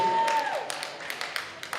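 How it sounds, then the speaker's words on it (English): A comedy show audience at a brewery on Friday the 13th applauds in a steady wash of clapping, with a brief tone and some scattered individual claps standing out near the end. "Give yourself a round of applause for supporting us"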